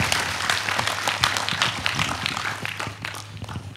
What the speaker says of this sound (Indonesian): Pak Tias Sutarto bersama-sama tepuk tangan untuk beliau